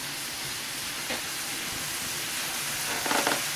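Vegetables stir-frying in a hot pan give a steady, close broadband sizzle and hiss, with short louder bursts around the one-second mark and near the end as they are stirred; no one speaks.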